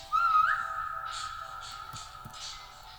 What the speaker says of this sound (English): Okay, whistle.